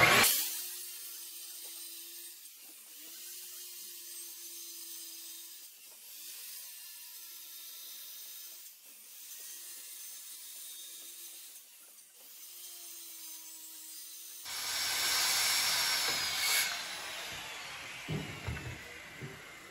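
A handsaw cuts wood for a faux stair stringer, a series of regular back-and-forth strokes in a quiet room, followed by a louder burst of scraping and handling noise near the end.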